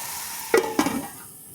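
Ground coriander and chili masala poured into a hot frying pan while cooking fish curry, giving two quick soft hits followed by a short sizzling hiss over faint background noise, with no talking.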